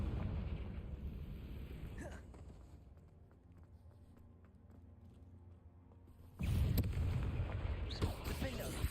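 Confringo blasting spell in Hogwarts Legacy, a sudden loud explosive burst erupting after a quieter stretch of ambient game sound, followed by further crackling blasts; a voice is heard in the background.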